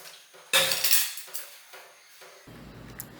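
Metal idli steamer vessels clank and clatter in a kitchen: a loud bright clash, followed by several lighter knocks and scrapes of metal pots at close range.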